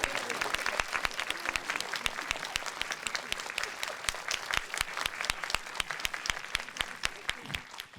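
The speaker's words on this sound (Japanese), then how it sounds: "皆様大きな拍手でお迎えください" An audience at a film screening Q&A applauds to welcome a guest onstage, steady dense clapping from a large crowd that carries on unbroken throughout, loud and close.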